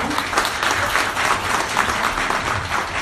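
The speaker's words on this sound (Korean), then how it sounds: "다시 한번 큰 박수 부탁드리겠습니다." An indoor lecture audience gives steady, dense applause at a technology park event, sustained and fairly loud throughout with no talking over it.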